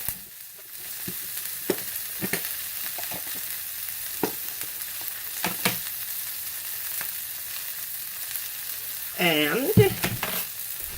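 Shallots with a pinch of salt sizzle steadily in a hot pan, with scattered scraping clicks of a utensil stirring them and a brief voice near the end.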